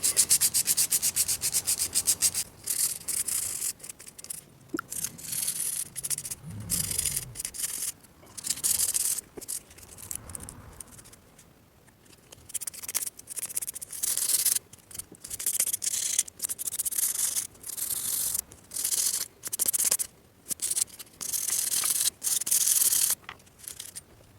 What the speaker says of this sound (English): I'm going to go ahead and just quickly do out the higher grit sandpapers and get these nice and smooth again